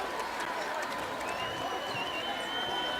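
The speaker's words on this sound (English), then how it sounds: "Listen to this crowd here in Huntsville," Crowd noise in a basketball arena in Huntsville, Alabama during a timeout late in a conference tournament semifinal, a broad, faint roar of fans heard from a distance as a steady wash with scattered shouts and no clear peaks.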